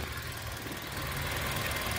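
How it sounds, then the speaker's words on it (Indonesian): A 2016 Toyota Avanza E with manual transmission idles smoothly, giving a steady, even low hum with a faint continuous hiss, close and unbroken for the whole stretch with no talking. "ini untuk mesinnya, suaranya mesin nggak nyuara teman-teman, saking halusnya"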